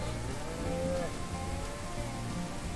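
A cow moos in the Ranch Simulator video game, with a drawn-out bovine low heard moderately close over a steady background hiss, no talk.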